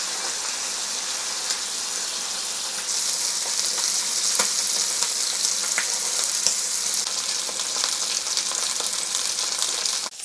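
Chicken thighs fry skin side down in a cast iron pan, giving a loud, steady sizzle that swells slightly partway through and continues unbroken with no voices.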